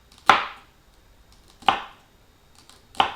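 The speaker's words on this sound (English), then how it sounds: "we're gonna have celery, and I'm just chopping it in small pieces" A knife chops celery into small pieces on a cutting board while red beans and rice are being cooked, three sharp, distinct strikes spaced about a second and a half apart, close and fairly clear with no talking.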